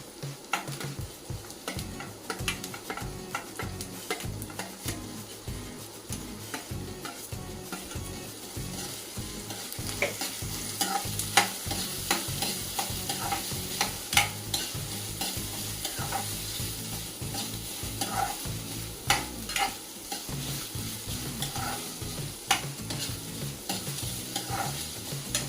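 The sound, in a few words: sautéing corn, capsicum and paneer with onion in pan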